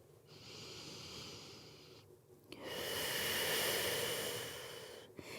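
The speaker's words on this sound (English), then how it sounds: "Breathing deeply." Slow deep breaths from a person lying on a release ball during a psoas stretch, a soft airy inhale followed by a longer, fuller exhale, close and quiet with no talking.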